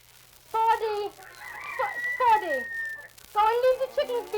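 Barnyard fowl cluck and squawk in a radio drama farm scene, several short bursts with a drawn-out crowing call in between, fairly close and clear with no talk over them.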